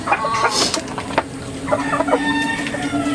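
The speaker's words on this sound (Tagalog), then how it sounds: "Tignan nyo guys kung gaano kagana kumain yung mga manok natin kapag masarap yung timpla ng pagkain" Chickens cluck busily while eating a mixed conditioning feed, with several birds calling close by in a steady, overlapping flurry and a rooster-like call rising above.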